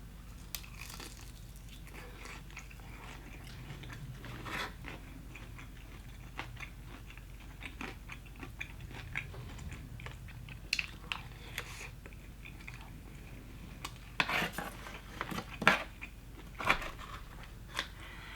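Eating Popeyes fried food up close, with crunchy bites, wet chewing and the crinkle of wrappers, mostly quiet with sharper bursts of crunching toward the end.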